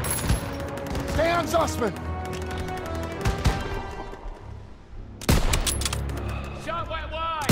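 Rapid bursts of rifle and machine-gun fire from the Call of Duty WW2 battlefield, close and loud with overlapping volleys and booms, broken by a brief lull before the shooting resumes, while a soldier shouts over it.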